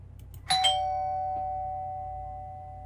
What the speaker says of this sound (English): As you're sipping your coffee, doorbell rings.